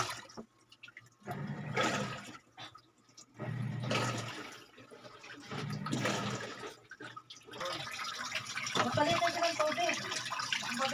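An automatic washing machine with an error 6 water-level fault drains its water in several loud gushing surges separated by short pauses, ending in a steadier trickling rush.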